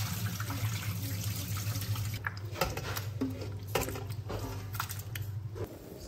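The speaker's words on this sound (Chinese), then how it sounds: "把切好的牛肉淘洗血水哈" Cut chunks of beef brisket rinsed in water in a sink, with steady running water and wet squishing and sloshing as the meat is handled, close and continuous.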